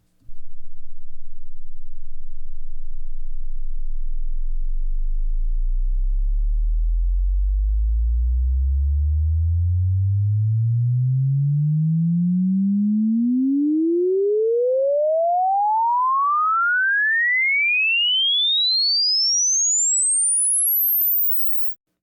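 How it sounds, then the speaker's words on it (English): A pure sine tone glides steadily upward from a deep low rumble to a piercing high whistle over about twenty seconds, alone and constant in loudness. "hear the frequencies that are within this range using a single sine tone sweeping upwards in pitch"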